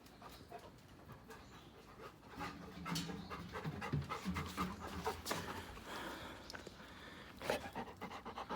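A golden retriever panting just after coming back from a walk, rapid rhythmic breaths close by that continue steadily throughout, with some faint clicks and movement mixed in.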